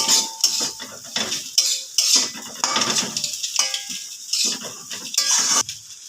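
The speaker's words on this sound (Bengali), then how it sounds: "ডিমের সঙ্গে সবজিগুলো মিশিয়ে নেব।" A metal spatula scraping and clanking in a pan while stirring fried vegetables into eggs for egg chowmein, bursts of scraping strokes with faint sizzle between them, close and loud with no talk.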